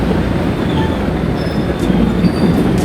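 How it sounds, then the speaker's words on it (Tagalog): A passenger train rides along with a loud, steady rumble of wheels on rails, faint squeals and clatter running through the constant roar, heard from on board. "Sakay na kami ng tren."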